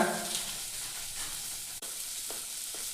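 Bread upma fries with spices and salt in a pan, a continuous close sizzle with light stirring scrapes and a few faint clicks from the spoon.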